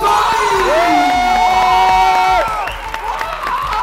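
Crowd at a bodybuilding competition cheering for a winner, loud whoops and shouting with some clapping and a sustained high vocal cheer, fairly close and energetic.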